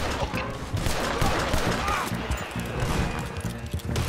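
Rapid gunfire from a Red Dead Redemption 2 shootout crackles continuously at fairly close range, with shouting voices mixed in throughout.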